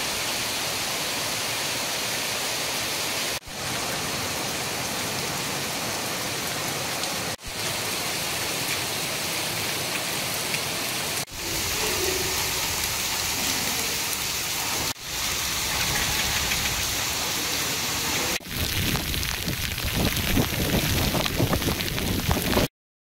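Heavy rain pours steadily in Puducherry, a dense hissing roar that carries through several cut segments with brief breaks between them, and the last stretch sounds closer and more splashy.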